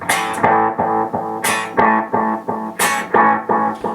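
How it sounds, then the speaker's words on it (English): Electric guitar played through an echo delay pedal with the delayed signal louder than the dry tone, repeating distorted notes in a pulsing rhythm, each attack followed by decaying echoes. "So now I've got more of the echo coming out than my actual guitar."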